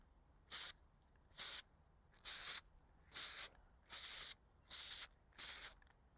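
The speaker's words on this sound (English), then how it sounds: "just be patient with the spraying because you don't want it to clump" Grit sprayed onto a pickleball paddle in seven short, evenly spaced hissing bursts, each about half a second long, faint and close with quiet pauses between them.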